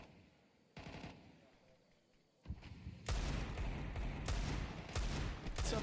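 Counter-Strike gunfire during an IEM Cologne Major match between NAVI and Spirit, with short bursts followed by a loud, dense stretch of rapid automatic fire.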